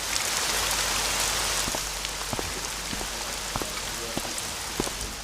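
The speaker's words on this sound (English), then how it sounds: "It's raining." Steady rain falls on a surface, a constant hiss with scattered individual drops tapping close by, fairly quiet and unbroken, with no talk.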